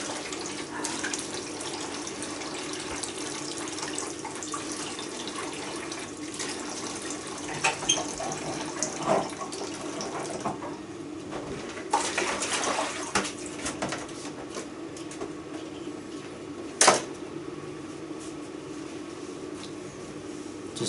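Water runs steadily from a kitchen tap while pheasants are washed at the sink, a constant splashing hiss with a few brief clatters and a sharp knock near the end.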